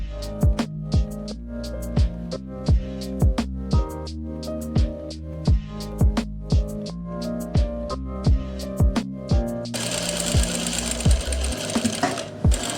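A sewing machine stitches the sleeve seam of a princess-cut kurti, a close, steady rhythmic stitching punctuated by regular sharp clicks, turning into a denser continuous whir toward the end.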